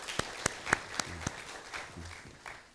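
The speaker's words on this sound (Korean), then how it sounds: "청년부에게 감사의 박수를" A few scattered hand claps from a church congregation thanking the youth choir after worship singing, sharp and separate at first, then thinning out into quiet room noise with a brief low voice.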